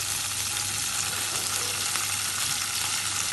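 Garlic and ginger fry in hot oil in a karahi for prawn karahi, a loud, even, close sizzle running continuously with no talk.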